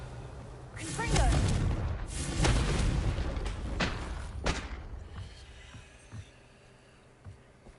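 A Confringo blasting curse explodes in the Hogwarts Legacy video game: a loud, booming burst with a whooshing tail that rolls into a few fading thuds, with game speech sounding underneath.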